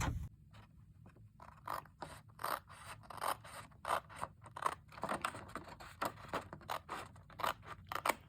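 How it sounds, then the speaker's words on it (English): Scissors cutting part way along a score line in patterned craft paper for a mini pocket album, a close series of crisp, rhythmic snips and rustles repeating steadily with no talk. "to take my scissors and I'm going to cut part way up this score line"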